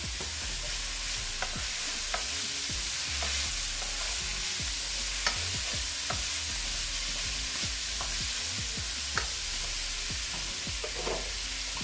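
Tomato stirred into cabbage frying with thyme in a pan, a steady sizzle running throughout with scattered scraping stirs and clicks, close and fairly quiet, no talking.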